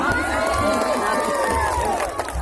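A large crowd at a Golkar party campaign rally in Makassar cheering and shouting continuously at a loud, steady level, with many voices blending together.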